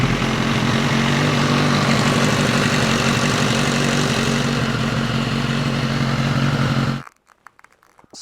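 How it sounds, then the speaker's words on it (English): A BMW S 1000 RR superbike engine, a rebuilt salvage bike just after an oil change, runs steadily at a loud idle-like drone for about seven seconds, then cuts off abruptly into near silence. "I'm going to give it a little run up, get the oil flowing around the engine"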